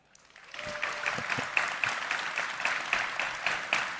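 Applause from a packed hall audience at a crypto conference in Nashville, rising quickly from quiet into sustained, fairly distant clapping with a soft crowd wash.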